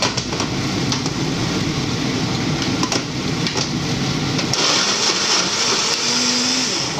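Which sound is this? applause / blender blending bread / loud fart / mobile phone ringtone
blender blending bread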